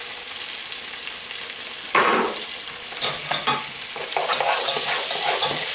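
Minced garlic fries with lightly golden onions in a pot for fish stew, a loud, steady close sizzle with several scraping stirs and clanks midway, no speech.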